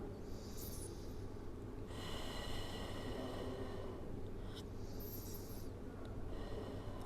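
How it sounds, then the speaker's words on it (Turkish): Deep, slow breathing from a person holding child's pose in an abdominal workout, two or three long airy breaths close to the mic and separated by quiet pauses. "Birkaç nefes alıp vereceğiz burada."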